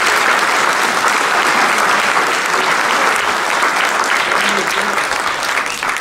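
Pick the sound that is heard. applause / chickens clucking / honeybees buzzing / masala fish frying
applause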